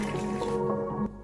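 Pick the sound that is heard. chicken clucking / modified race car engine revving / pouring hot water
pouring hot water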